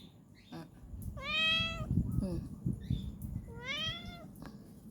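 Two pet cats let outdoors meow in long, rising-falling calls, one drawn-out cry near the start and another a few seconds later, close and clear over low background rumble.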